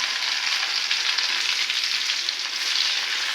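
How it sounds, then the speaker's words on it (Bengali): Bay leaf, cinnamon, cardamom and cloves sizzling in hot oil, a loud, steady, dense hiss that runs unbroken from start to finish with no voices over it. "এর মধ্যে আমি তেজপাতা, দারচিনি, কয়েকটা এলাচ, লং দিয়ে দিলাম।"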